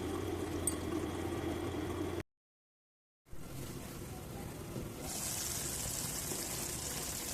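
A pot of chicken curry with dry fruit masala, clove powder, chicken masala and cardamom powder simmers with a faint, steady bubbling hiss. The sound breaks off briefly, then returns a little brighter.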